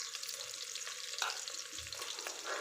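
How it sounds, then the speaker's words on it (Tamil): Curry leaves and green chilli sauté in hot oil for a village-style pumpkin rice, a quiet continuous sizzle with soft stirring scrapes nearby. "கருவேப்பிலை சேர்த்துட்டு நல்லா வதக்கிக்கலாம்."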